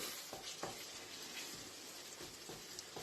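Beef mince browns in a pan for chilli con carne, a faint, even sizzle with a few soft stirring knocks underneath.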